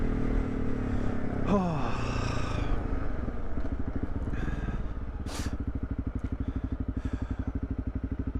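A motorcycle rides through downtown Nanaimo in freezing winter weather. Its engine putters unevenly, then settles into a steady, close, pulsing drone, and a rider gives one brief exclamation.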